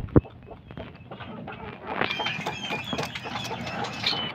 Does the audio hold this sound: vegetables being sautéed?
no